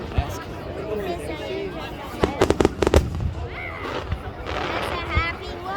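Fireworks burst at an Independence Day show in Manlius, with a quick cluster of sharp bangs in the middle over a steady murmur of crowd chatter and people talking nearby.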